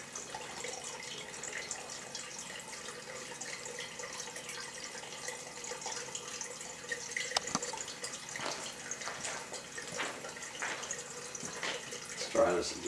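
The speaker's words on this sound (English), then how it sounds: "should be able to hear the water draining." Water heater draining, with faint trickling and dripping water, irregular small splashes and a brief louder gurgle near the end, under soft speech.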